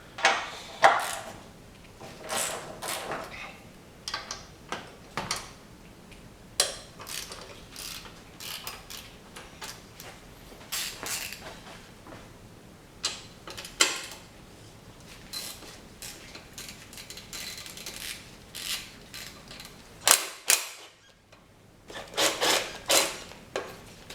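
Ratchet wrench loosening 14 mm and 12 mm upper motor mount bolts on a Toyota/Lexus V6, close, irregular bursts of clicking ratchet strokes and metallic creaks separated by brief pauses, with no talking.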